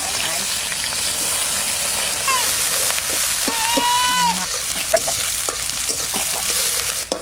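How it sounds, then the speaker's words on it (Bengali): Sliced onions with black cumin seed and green chillies frying in oil for Bengali village-style rui fish posto, a steady close sizzle with occasional stirring clicks and faint animal bleats in the background. "পেঁয়াজটা একটু ভাজা ভাজা হয়ে গেছে।"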